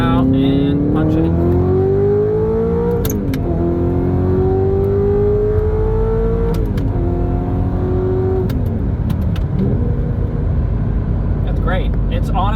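A manual Audi R8 accelerates hard with a loud, close engine note that climbs through each gear, and sharp pitch drops mark the upshifts. A voice talks over the engine.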